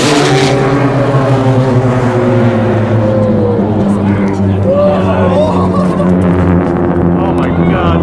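Hypergolic rocket engine at ignition and liftoff, a loud continuous roaring rumble with strong low tones and steady intensity throughout, while excited voices talk over it.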